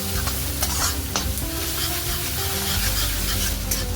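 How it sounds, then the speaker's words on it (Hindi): Onions, ginger and garlic sizzling steadily in hot oil with salt in a pan, with occasional stirring scrapes through the continuous frying hiss. "हल्का गुलाबी होने तक सॉटे कर लीजिए।"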